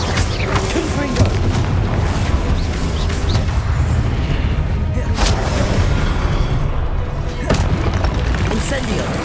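Repeated Confringo explosive spells go off in Hogwarts Legacy, loud booming blasts with crackling bursts and rumbling debris over continuous game noise, with a voice heard in the mix.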